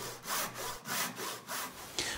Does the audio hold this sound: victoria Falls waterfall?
no